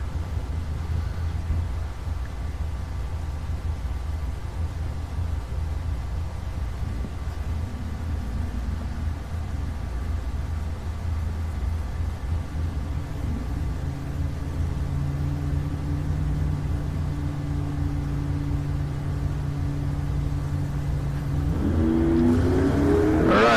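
At a drag strip, a Buick and a Mustang idle and rumble, then engines rise in pitch and rev up sharply toward the end, a steady low mechanical drone with building acceleration.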